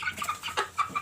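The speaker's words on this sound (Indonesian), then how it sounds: "anakan ayam betina" Young hen chicks clucking nearby, a quick run of four or five short, bright clucks and peeps in rapid succession over about a second, clear and close with no talk.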